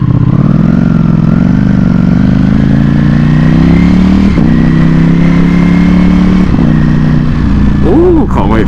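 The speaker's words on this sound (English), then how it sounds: "Bikes sound so freaking aggressive." A Ducati Panigale V4S engine drones loudly up close at night, its pitch climbing steadily through the gears before a quick blip at the end.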